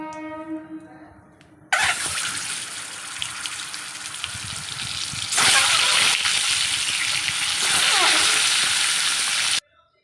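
Eggs drop into hot salted oil in a pan and set off a loud, sudden sizzle that stays close and intense. It swells louder partway through, then cuts off abruptly.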